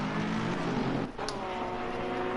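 Race car in Assetto Corsa Competizione at Laguna Seca, with a loud steady engine drone that dips briefly as another race car sweeps past near the middle, then the engine roar resumes.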